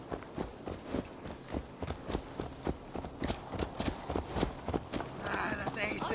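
Horse hooves in Assassin's Creed Valhalla beat out an even, moderately close walking clip-clop of regular thuds across the clip, ending under a louder rush of ambient noise.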